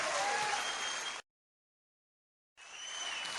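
Loud, dense applause from an audience at an RCM Business seminar, with steady clapping that cuts out to silence for over a second and then resumes just as strongly.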